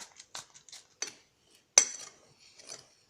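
Dry powder mixture for homemade toilet-cleaning tablets stirred in a bowl with a utensil, giving light scraping clinks in irregular bursts, the loudest near the middle, close and fairly quiet.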